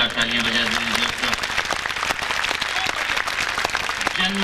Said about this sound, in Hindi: सरदार प्रताप सिंह फौजदार के लिए एक बार और जोरदार तालियां बजा दीजिए दोस्तों